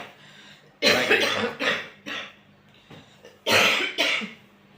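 Several harsh coughs come in short clusters with brief pauses between them, close and fairly loud.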